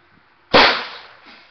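A single gunshot at an outdoor gun range, one sharp loud crack that decays over about a second, with no talk around it.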